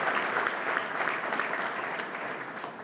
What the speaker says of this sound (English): Please give them a round of applause for their leadership.